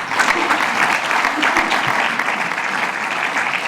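Sustained applause from a conference audience at a Barcelona business forum, dense steady clapping filling the room at even loudness throughout with no pauses.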